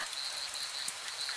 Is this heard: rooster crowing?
no